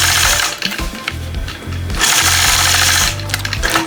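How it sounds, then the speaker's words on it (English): A sewing machine stitches point-to-point curves along quilting rulers on a heart block, running in a loud, close, rapid mechanical chatter that speeds up and slows with brief pauses between stitched sections. "I'll start with that concave side of the Sway 3 and stitch a point-to-point curve"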